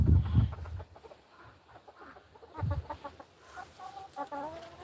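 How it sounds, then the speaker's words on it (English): Frizzle chickens clucking in a backyard flock, a close run of short, irregular clucks and chattering calls with a few louder bursts and a rising squawk near the end. "When I first started with chickens, I got a whole bunch of frizzles."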